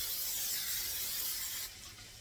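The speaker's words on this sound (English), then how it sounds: "the first thing we're going to do is spray our pan" Cooking spray hisses steadily onto a pan for rice, a close, even burst of fine hissing lasting about two seconds before it cuts off, with no talking.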